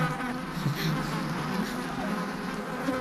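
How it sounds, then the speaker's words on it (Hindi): A dense swarm of honeybees buzzes loudly and steadily in an outdoor scene from a Hindi film, a continuous close drone with no talk over it. "मधुमक्खियों ने हमारी तरफ यू टर्न ले लिया है।"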